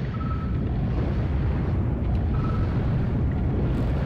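An underwater sea mine explodes in the video game Treasures of the Deep, a dense, sustained low rumbling roar filling the whole stretch at steady loudness, with no voices over it.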